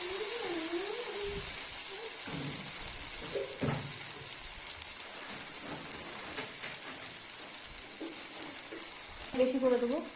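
Spices frying in a pan for a Bengali eggplant curry, a steady close crackling sizzle with a constant high hiss throughout, a voice speaking intermittently over it.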